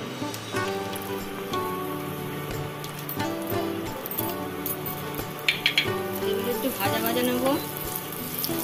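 Cashews and raisins sizzle in hot fat with a bay leaf, a continuous crackling fry heard beneath background music, with a few louder spattering bursts midway.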